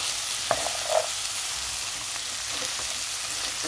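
Beef and garbanzo beans being stirred in a pan, a soft continuous sizzle with a couple of brief scraping knocks early on, fairly close and with no talk.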